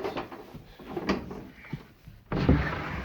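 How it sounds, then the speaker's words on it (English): A newly installed sliding door on the south side of a goat barn rolls and clunks, with a scrape near the middle and a louder burst of rumbling movement toward the end, close by with no talk. "So it's just a sliding door."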